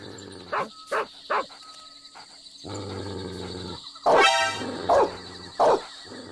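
Guard dogs barking in Metal Gear Solid 3: Snake Eater, a handful of sharp separate barks spaced across the stretch, fairly close and loud over a steady game background hum.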